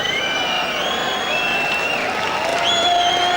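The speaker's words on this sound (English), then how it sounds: "there have been bigger rounds of applause for world champions" A boxing crowd applauds and cheers for Lloyd Honeyghan before his bout with Johnny Bumphus, a dense, continuous wash of clapping and whistles holding steady throughout.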